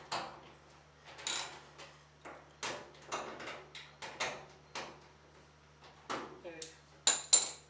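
Socket wrench ratchets in short bursts of clicking while bolts on a clothes dryer's back plate are loosened, the bursts separated by brief pauses and light handling noises under a low steady hum.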